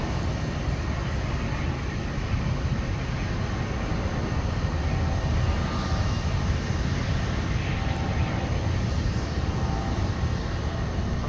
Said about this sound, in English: here is 165 Heavy now touching down from Amsterdam. Late and fashionable with the A330-900 Neo.